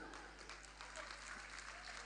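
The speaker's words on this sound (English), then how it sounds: "Let's please applaud Mr. President" University founders' day audience applauding, a faint, distant wash of clapping from a crowd under a steady low hum, brief and fairly even throughout.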